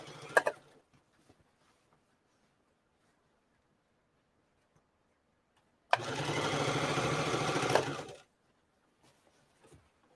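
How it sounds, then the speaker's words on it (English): A home sewing machine stitching a denim crotch piece runs in one steady burst of about two seconds, close and fairly loud, preceded by a brief handling noise and otherwise quiet. "I'm literally just going to keep sewing the crotch piece"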